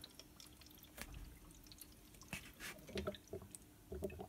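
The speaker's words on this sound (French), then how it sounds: "Quand on enlève, on entend que ça coule." Coolant draining from a Renault Clio 2 radiator once the plug is loosened, heard as faint scattered drips and trickling splashes, quiet and close, with no talking.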